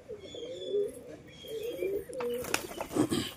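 A male pigeon coos up close in a series of low, rolling, throaty calls, with a faint higher chirp and some clattering noise joining in the latter half.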